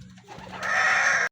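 Racing pigeons at the loft after the first lap of a derby race, with soft low cooing and rustling early on, then a loud, steady broadband burst of bird sound filling the last half second or so before cutting off.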